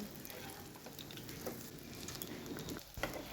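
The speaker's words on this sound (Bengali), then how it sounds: "এই যে এরকমভাবে ভেজে নিয়েছি তারপরে উল্টে অপর পিঠগুলো ভালো করে ভেজে নেব" Cauliflower pieces frying in hot oil for chilli cauliflower, a steady close sizzle with crackling pops throughout and a brief stir near the end, no talking.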